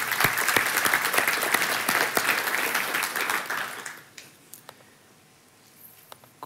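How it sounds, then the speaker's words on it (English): Audience applause at a software engineering talk, a loud burst of many hands clapping that fades out after a few seconds, leaving a quiet room with a few stray claps. "Let's give them a round of applause."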